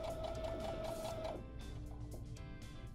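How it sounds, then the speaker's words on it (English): A sewing machine stitches two pieces of fabric together along a quarter-inch seam, a fast steady mechanical whirr that runs quietly and close, with a brief change in tone partway through and no talking. "I'm going to go ahead and start sewing these two pieces of fabric together"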